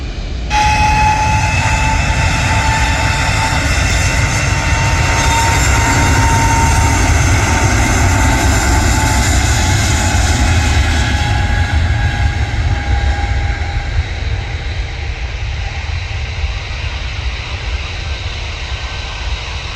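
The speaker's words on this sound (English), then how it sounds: "one of the big Jet2 A330s. But it's from 23 left." A big Jet2 Airbus A330 on its takeoff roll from runway 23 left at Manchester Airport, heard as a loud, sustained jet engine roar with a high whine that builds, then slowly fades over about twenty seconds.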